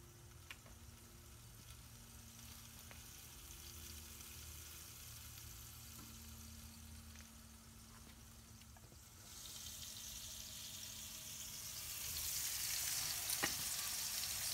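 Burger patties sizzle steadily on a Kamado Joe grill with the lid closed, a soft continuous frying hiss that swells louder and brighter toward the end.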